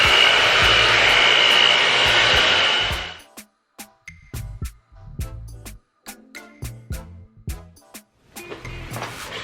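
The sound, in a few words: blow dryer running on higher heat setting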